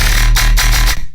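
Gritty dubstep synth bass with all EQ switched off, a loud, harsh, buzzy tone with a few rhythmic pulses before it cuts out abruptly.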